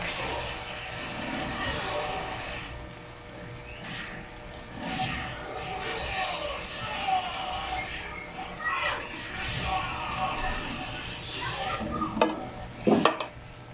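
Hotdogs cooking in a pot of all-purpose cream and condensed milk sauce, a steady simmering bubble and spoon stirring with occasional clinks, while voices talk and children can be heard nearby.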